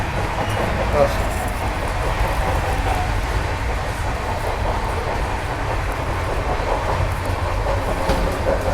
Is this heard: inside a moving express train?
yes